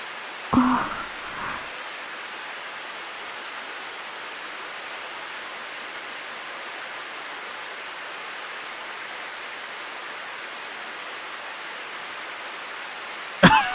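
Steady rain in the visual novel Higurashi When They Cry, a constant broadband hiss that stays even throughout, with two short thumps near the start and a brief knock at the very end.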